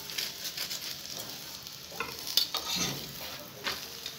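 Methi paratha frying in ghee on a pan, a quiet continuous sizzle with light crackling, a few soft taps and scrapes scattered through, fairly faint and without speech.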